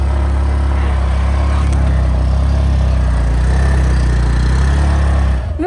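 A Honda Activa scooter engine drones steadily and close while the scooter is ridden offroad through slippery mud, holding a constant hum that drops off abruptly at the very end.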